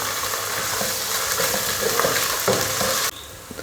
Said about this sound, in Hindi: अब इसमें डालते हैं जनाब अदरक और लहसुन का पेस्ट। इसको भी साथ हम फ्राई करेंगे।